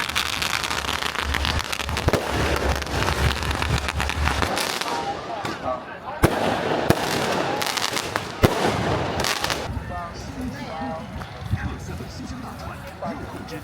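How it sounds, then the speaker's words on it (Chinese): Fireworks set off at a village bullfight festival in Datang township, Guizhou, with dense, loud crackling and popping bursts that continue throughout, mixed with background crowd noise. "点烟花"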